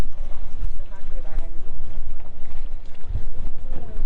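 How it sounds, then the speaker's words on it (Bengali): A boat on the Padma river near Char Alokdia, Manikganj: heavy wind buffeting the microphone and water movement around the hull, with indistinct voices murmuring underneath. "নৌকাতে চলে আসলাম, উঠি, উঠে গেছি।"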